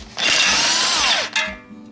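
A large impact gun works on a ball joint of a 1993-98 Jeep Grand Cherokee ZJ: one loud, close, rattling burst of about a second, then a brief second blip before it stops.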